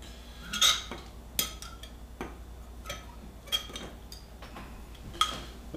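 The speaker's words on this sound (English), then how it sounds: "Mix it up a little bit like that." A spoon clinks sharply against a bowl every second or so as molasses is stirred, in a quiet room with no talking.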